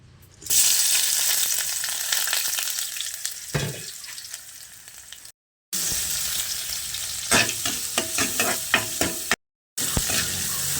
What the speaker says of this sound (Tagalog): Una, magigisa tayo ng sibuyas, kamatis